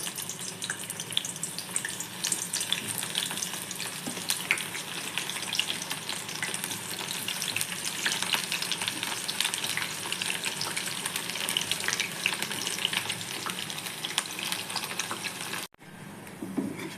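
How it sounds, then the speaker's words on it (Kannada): Soya chunks dropped one by one into hot oil in a deep pan, a dense continuous crackling sizzle close up that runs unbroken and cuts off sharply near the end, with no voices. "ಎಣ್ಣೆ ಕಾದ ಕೂಡಲೇ ಒಂದೊಂದೇ ಸೋಯಾ ಚಂಕ್ಸು ಬಿಟ್ಟುಕೊಳ್ಳೋಣ ಈ ಥರ."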